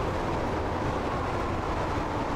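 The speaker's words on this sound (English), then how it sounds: "Watch our train go by." A high speed train in Train Sim World 4 on the Swansea to London Paddington line rushes past, producing a loud, steady rumbling roar with broadband rail noise that holds evenly from start to finish.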